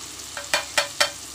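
Masala powder fried in a pan with softened tomato and onion, stirred in three quick, close scraping strokes over a soft sizzle.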